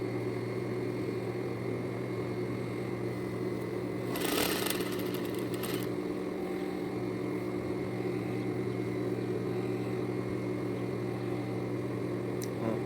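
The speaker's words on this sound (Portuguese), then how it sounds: "E venho passando a costura em volta do meu decote todo" A sewing machine stitches around a blouse neckline in a steady, continuous mechanical hum, with a brief burst of rustling fabric partway through and no talk.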